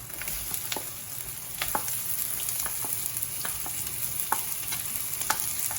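Onions fry and sizzle in a pan for a Jaffna-style chicken curry, a steady close hiss broken by repeated light scrapes and clicks of stirring.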